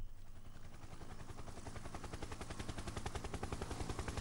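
A helicopter in a video game flies through the morning sky, making a loud, steady, rapid rotor chop that continues without a break and has no voices.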